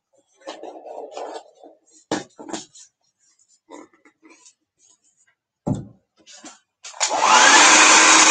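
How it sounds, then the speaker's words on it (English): A hair dryer blows onto gel holding a vintage bookmark to its base. After quiet handling clicks and taps, it switches on near and loud and runs steadily to the end. "But we will help it a little bit with our hair dryer."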